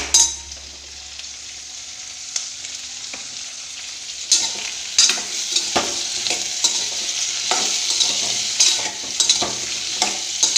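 Eggplant pieces sautéing for sambar, with a steady sizzle and frying hiss overlaid by repeated scraping stirs and occasional light clinks of a utensil against the pan, close and fairly loud.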